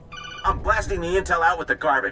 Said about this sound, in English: That's just my phone ringer.